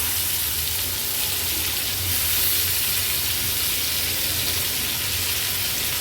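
Fish sizzling and frying steadily on a tava with oil over a high gas flame, a continuous close crackling hiss lasting throughout with no voices.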